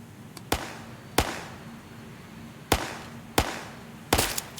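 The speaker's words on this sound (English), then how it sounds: "He ferociously fires several more rounds into the air." Five sharp, loud rifle shots fired into the air in the game Stygian, spaced at uneven intervals with short echoing decays over a quiet hum.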